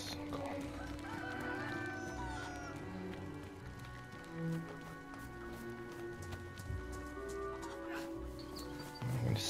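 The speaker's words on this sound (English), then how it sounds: "I see a chicken, Liam." A chicken in the survival game DayZ crows and clucks amid game ambience and layered tones. Voices talk at moments.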